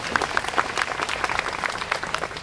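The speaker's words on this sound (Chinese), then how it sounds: "掌声鼓励。" A live audience applauds at a folk song concert with a lively, dense patter of clapping that stays fairly even and continues throughout, with no one speaking over it.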